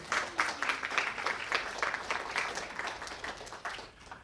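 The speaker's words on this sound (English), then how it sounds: "Let's give Shauna a round of applause." A small crowd claps enthusiastically for a few seconds, rhythmic clapping that gradually tapers off near the end.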